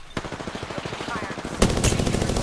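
Rapid automatic gunfire in the PS4 video game Apex Legends, a steady burst of evenly spaced shots that gives way to a louder, denser volley near the end.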